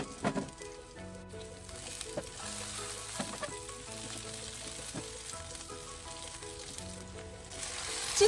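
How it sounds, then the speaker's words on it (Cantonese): Garlic slices dropped into a hot wok of chicken fat, with king oyster mushrooms and a ginger slice, crackle in a steady, close sizzle that runs throughout, with a few sharper pops and a faint tonal layer underneath. "落蒜片"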